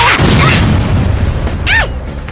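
An air strike explodes in the PS3 game Worms with a loud, deep boom that rolls off into a rumbling tail, and a brief squealing cartoon voice cuts in near the end.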